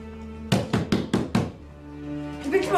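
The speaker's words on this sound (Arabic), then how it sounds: "نادي افتحي، تكسر الباب" Four sharp knocks on a door land in quick succession, loud and close, over a steady low hum, followed by a murmur of background voices.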